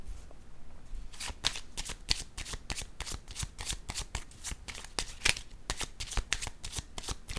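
Tarot cards are shuffled and laid down by hand, a quiet close series of crisp riffling flicks and snaps coming in quick irregular bursts after a brief hush, with no talking.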